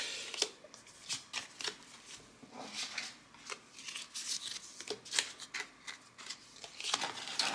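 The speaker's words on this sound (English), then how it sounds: "I just dropped a bunch of cards on the ground." Trading cards from a Modern Horizons 2 draft booster box being gathered up off the floor, giving a run of close, soft papery slaps and shuffling rustles in irregular bursts, with no talking.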